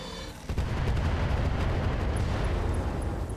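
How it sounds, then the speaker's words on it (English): Plasma cannon explosion in the mech combat game RogueTech: a sudden booming blast that swells into a sustained roaring rumble, loud and heavy in the low end, with no voices. "Plasma cannon explosion there, Scored a critical hit."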